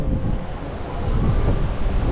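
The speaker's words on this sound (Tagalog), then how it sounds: "Ayan sarap nung hangin, lamig." Strong, cold wind buffeting the microphone on a ride to Tagaytay, a loud continuous low roar with gusty rumbling and no voices.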